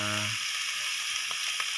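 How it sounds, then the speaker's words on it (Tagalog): Ginger, garlic and onion sizzle steadily in a hot pan, a broad continuous frying hiss with a couple of faint stirring clicks near the end; no talking. "ginigisa na natin siya sa luya, bawang at saka sibuyas"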